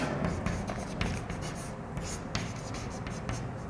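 A teacher writes on a board during a lesson, a steady run of scratchy strokes and taps close by, continuous with brief pauses and no speech.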